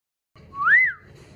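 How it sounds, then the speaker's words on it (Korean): A single short rising-and-falling whistle, made by a person to a Schnauzer puppy, sounds clear and close after a moment of silence over faint low background noise. "생전 처음 듣는 휘파람 소리에 고개를 번쩍 드는 둘곱시."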